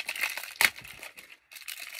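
Plastic wrapping of a birthday present crinkles up close as a child opens the package, a few sharp rustles and one louder crackle, then a short pause before more crinkling.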